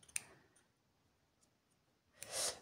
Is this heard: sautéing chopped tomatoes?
no